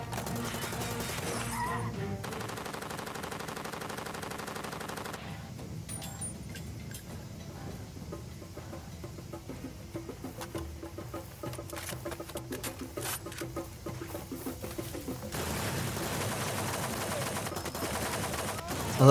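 Gunfire from a mounted machine gun in the video game Far Cry 2, bursts of shots rattling among game sounds and music over about nineteen seconds, loud and close.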